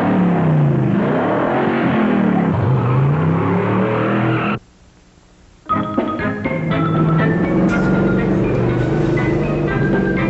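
A car engine runs and revs steadily in the foreground, cutting out briefly midway and then resuming with a musical score playing alongside it.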